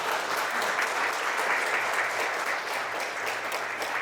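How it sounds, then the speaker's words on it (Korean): Loud, sustained applause from an audience at a national energy expo event in Korea, a thick unbroken wash of clapping from a large crowd lasting several seconds. "박수 한번 쳐주십시오"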